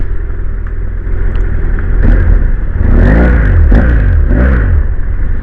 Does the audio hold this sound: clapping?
no